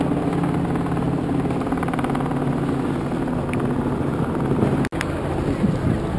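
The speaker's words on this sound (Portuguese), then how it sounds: "eu contei uns 4 helicópteros aqui em cima" Several helicopters flying overhead during a street protest in São Paulo, a steady, fairly distant rotor and engine drone mixed with wind noise and a brief microphone bump.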